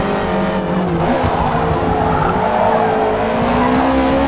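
A Subaru BRZ race car accelerates hard on a track during a time-attack event, its engine note climbing steadily and loudly with a faint tire squeal mixed in, close by and continuous.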